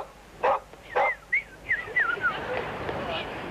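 A dog in a Moscow park barks and yips several times in quick succession, fairly close and loud, trailing off into whiny squeals over background ambience.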